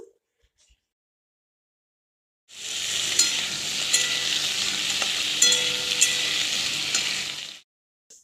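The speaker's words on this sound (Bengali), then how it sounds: "মাছের তেলে কালো জিরে ফোড়ন দিলাম, আলু দিয়ে দিলাম" Potatoes frying with black cumin in oil left from fish, a loud steady sizzle that starts abruptly after a quiet stretch and continues for about five seconds before cutting off, with light stirring clinks.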